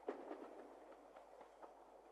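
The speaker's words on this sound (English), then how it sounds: "Miffy, Melanie and Grunty rode a train through different countries in Europe." A train rolls along rails in an animated children's show, a faint, soft rumble with light rhythmic clicks and no voices.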